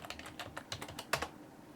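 Fingers tap out a username and password on a computer keyboard, about a dozen quick, uneven clicks in under two seconds, close and crisp, with no one speaking.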